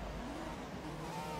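Race car engines in a racing video game drone steadily as 22 touring cars roll through a formation lap, a continuous mid-level roar with no voices.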